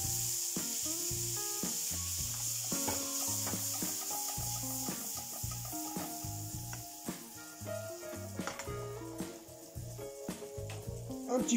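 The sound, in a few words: plantain leaves sizzling in browned butter in a pan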